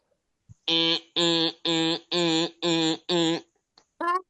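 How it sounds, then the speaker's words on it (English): A building fire alarm blares six harsh, evenly spaced electronic horn pulses, each about half a second long, loud and close, followed by a brief fainter tone. "And what does a fire alarm sound like?"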